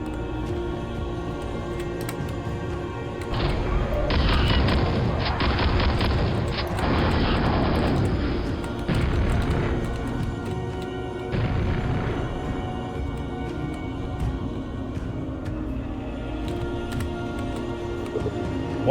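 Rocket explosions from rocket jumping in a video game, a run of loud booming blasts in quick succession over several seconds, then lighter thuds and game noise, with no talking.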